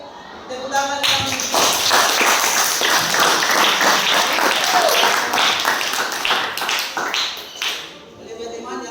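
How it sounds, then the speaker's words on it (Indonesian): An audience bursts into sustained applause after a teaching presentation, dense close clapping that swells after a second and runs for several seconds before tapering off, with a voice heard briefly at the edges. "kita beri tepuk tangan yang"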